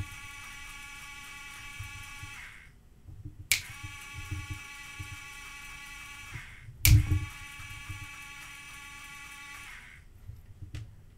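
Two sharp finger snaps, well spaced and crisp, each followed by the steady electric whine of a small toy car's motor kicked into motion by its sound sensor, the hum running for a few seconds after each snap.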